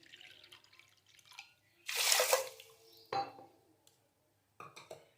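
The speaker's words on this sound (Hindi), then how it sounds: "अब मैं सेम कटोरी से मेजर करके इसमें पानी डाल दूंगी।" Water poured from a measuring bowl into a pot of sugar while making Rooh Afza-style sharbat syrup, heard as a close splashing pour in one main burst with a few shorter trickles and drips around it.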